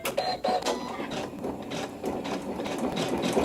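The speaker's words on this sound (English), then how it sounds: "I'm going to let it start stitching." A sewing machine stitches a quilt block, its needle running in a steady, fast mechanical chatter that holds close and even throughout.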